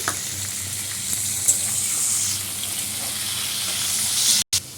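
Tomatoes sprinkled with salt fry in a pan with a continuous, steady sizzle. Faint stirring scrapes can be heard, and a brief cut comes just before the end.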